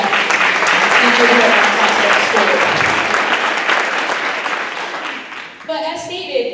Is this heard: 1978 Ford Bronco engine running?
no